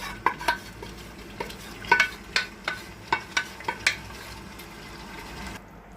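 Chicken pieces are stirred into biryani gravy in a pot, giving a series of sharp scraping, clacking strokes over a low, steady sizzle, close and fairly loud, before the sound drops away near the end.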